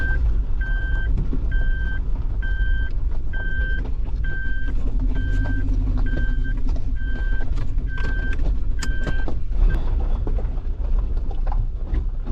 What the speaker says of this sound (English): Off-roading begins from here on.